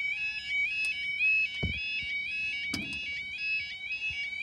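A level crossing alarm rings continuously in a rapid repeating electronic warble at Lissingley level crossing in Lincolnshire, with a couple of brief thumps in the background.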